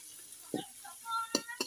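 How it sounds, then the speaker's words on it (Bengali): Onions frying in a pan for a home-cooked dish, with a few short scraping stirs and brief sizzling bursts at close range, no talking. "আম্মুর পেঁয়াজ ভাজা প্রায় শেষ"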